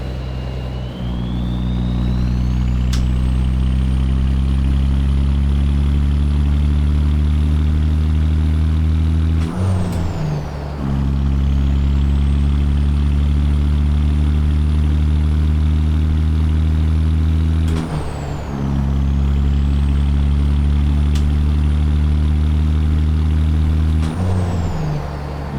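Simulated heavy truck diesel engine in American Truck Simulator, a Kenworth FLX 359 with a smoke mod, droning loud and steady with strong low harmonics, broken twice by brief dips and rising whines as gears shift.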